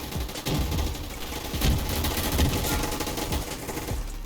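Rapid gunfire in a Roblox shooter game, repeated automatic bursts with heavier thumps mixed in, loud and continuous with no talking.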